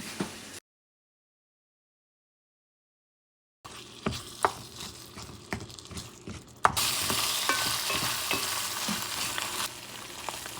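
Chorizo sizzles in a pan over medium-high heat, a steady crackling fry broken by sharp spatula scrapes and taps, dropping to silence for a few seconds before the sizzle returns louder and denser.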